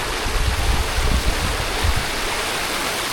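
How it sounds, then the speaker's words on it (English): Continuous rushing water down a canal fish ladder, a dense broadband roar like a small weir or cascade, close and steady with low surging rumbles throughout. "if you can hear me over the sound of the water, this here is a fish ladder"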